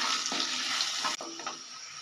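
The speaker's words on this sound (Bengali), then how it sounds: "ভালো করে মিশিয়ে নেব।" Fried potatoes being stirred in a pan with salt and turmeric, a steady sizzling hiss broken by scraping strokes of a spoon, close and moderately quiet.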